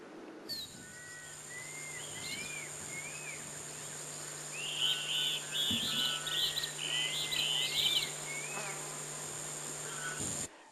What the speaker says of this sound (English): There was nothing, only the sound of the insects and other fauna.